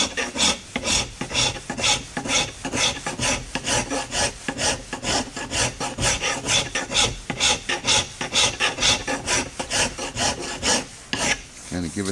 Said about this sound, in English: So just use this little rasp here